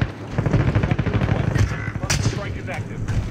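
Video game battle with rapid gunfire and an airstrike, heard as dense bursts of shots and sharp cracks, loud and near, while a player talks excitedly over the action.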